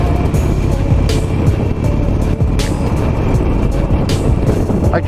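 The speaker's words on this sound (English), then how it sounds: "Little engine braking here." A 16-year-old Harley-Davidson Nightster motorcycle engine braking on a wet road, a loud, steady low engine drone with rough rumble and intermittent wind gusts, continuous throughout without talk.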